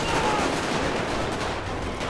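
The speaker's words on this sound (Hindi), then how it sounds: "तो कहते हैं लोग ने गोली चलाना स्टार्ट कर दिया।" Enemy gunfire in GTA V at a mafia island hideout, a dense continuous rattle of overlapping shots filling the whole stretch at steady loudness, with no clear individual bursts standing out.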